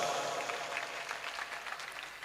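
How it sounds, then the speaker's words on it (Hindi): Brief, fairly faint applause from a gathered crowd at a comedy stage event, welcoming an announced donation total, a soft even patter of many hands. "जोरदार तालियों से स्वागत।"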